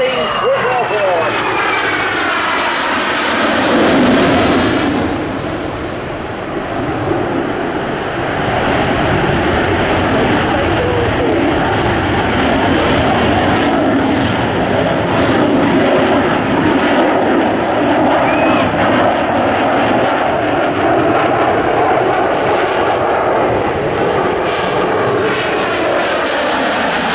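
A Swiss Air Force F-18 fighter jet flying a display at a Scottish airshow in 2018 produces a loud, sustained roar that swells and holds for the whole stretch, with an announcer speaking over a public address system.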